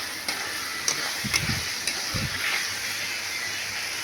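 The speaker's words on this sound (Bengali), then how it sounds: "ভালো করে কষতে হয় মাংসটাকে। গরম মশলা দিয়েছি একটুখানি" Mutton sizzling as it is sautéed with a little garam masala for a Bengali curry, with steady close frying hiss, a few soft clinks and low stirring scrapes.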